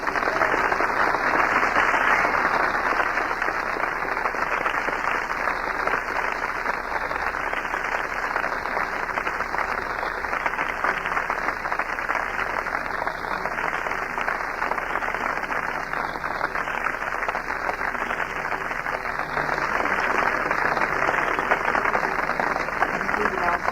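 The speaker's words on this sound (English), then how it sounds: "thank you very kindly for your heartwarming applause" An audience claps warmly for the speaker after his introduction at an anti-war gathering, with sustained dense applause throughout and some crowd voices mixed in.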